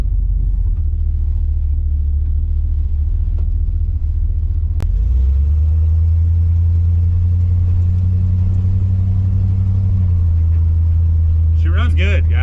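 A 50-year-old truck's engine drones low and steady while driving, the pitch dropping and settling into a deeper rumble partway through, with a brief burst of other noise near the end.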